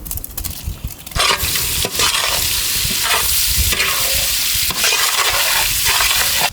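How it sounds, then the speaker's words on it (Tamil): Onions frying loudly in a pan for tuna mandi biryani, with a continuous close sizzle and repeated scraping stirs of a utensil against the pan. "வச்சு வெங்காயத்தை சேர்த்து விடுமுக்கா"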